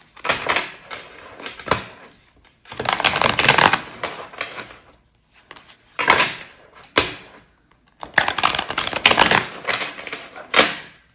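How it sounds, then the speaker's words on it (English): Vigorous shuffling of a tarot card deck, close and crisp, in repeated bursts of riffling and slapping cards separated by short pauses. "I'll do a good hard cleansing shuffle"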